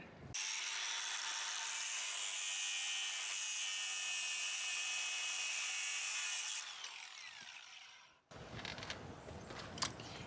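A power tool grinds steadily and loudly for about eight seconds during renovation of an old off-grid homestead house, then cuts out and leaves quieter clatter.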